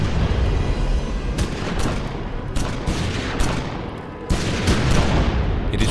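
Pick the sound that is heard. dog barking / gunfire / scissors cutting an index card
gunfire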